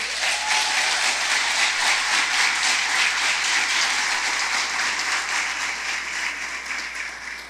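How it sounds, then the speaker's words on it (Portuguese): Congregation applauding for Jesus during a church sermon, sustained loud clapping from many people that holds steady and then tapers slightly toward the end. "Vamos dar uma salva de palmas para Jesus?"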